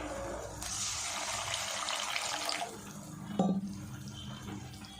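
Water is poured from a vessel into an egg masala gravy in a pan, a brief splashing stream for a couple of seconds, followed by a soft clink and quiet kitchen sounds.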